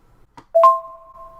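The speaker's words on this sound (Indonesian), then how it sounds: "Ada sound effect di WhatsApp kalau lu muter audio itu ada bunyi ding kayak begini nih." WhatsApp audio-playback ding: a short, clean two-tone chime sounding once in near silence and ringing out briefly.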